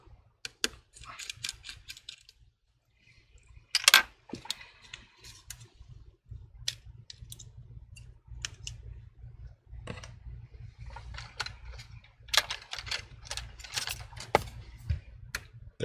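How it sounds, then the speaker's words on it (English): Small clicks and scrapes of a Y screwdriver taking tiny screws out of an iPhone 11 during a screen repair, with faint ticking mechanical sounds over a low steady hum, close and quiet. "Get a Y screwdriver, remove the tiny screw on the top."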